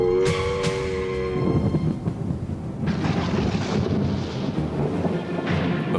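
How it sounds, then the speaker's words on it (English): Thunder cracks and rolls through a violent storm over a forest, followed by a steady roar of heavy rain and wind that swells and continues to the end, with no voices. "a violent storm erupts, unleashing a torrent of water"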